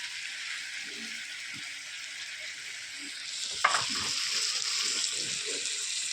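Tomato drops into a pan of frying chicken and new potato curry spiced with Kashmiri chilli powder, and a steady bright sizzle surges louder after a sharp splash, with no talking.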